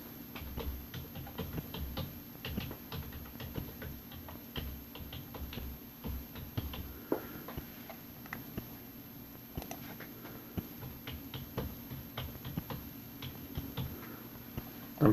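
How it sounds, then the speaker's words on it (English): Quick, irregular clicking of a computer keyboard being typed on, light taps running continuously at close range over a faint steady hum. "I'm trying to type something here"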